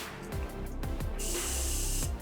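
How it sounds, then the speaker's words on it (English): Morphe makeup setting spray is misted from a bottle, giving a steady close hiss that lasts just under a second after a few faint handling taps. "Take a ColourPop E18 and some Morphe setting spray."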